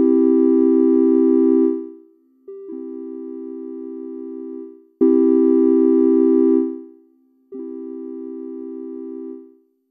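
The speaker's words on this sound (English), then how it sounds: "Sine waves are cool and all, but they can be kind of bland." Plain sine-wave tones from a VCV Rack modular software synth, two sustained notes that each swell, hold and fade, repeated twice with a short gap, clean and steady with no voices.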